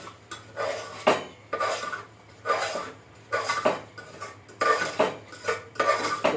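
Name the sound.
stirring dry fruits frying in a pan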